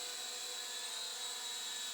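A small drone in flight gives a steady, whining buzz of spinning propellers with a sharp tonal edge, constant and alone for a couple of seconds.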